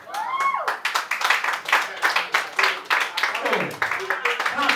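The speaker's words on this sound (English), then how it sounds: "clap your hands. A round of applause." An audience at an MBA pitching and demonstration day claps in a moderate round, with individual hand claps distinct and rhythmic, while a voice talks over the clapping.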